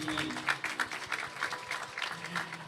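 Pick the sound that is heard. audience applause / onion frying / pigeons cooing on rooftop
audience applause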